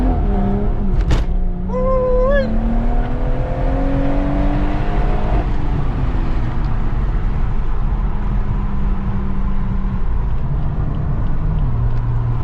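A stage 2 BMW 140i with a B58 engine pulls hard through Saturday traffic in Mexico, its exhaust rising in pitch over one long, loud, close run of acceleration before the revs settle and drone on steadily.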